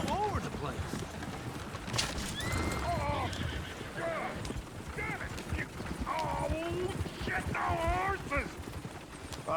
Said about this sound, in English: Is one of you going to get that fella's horse?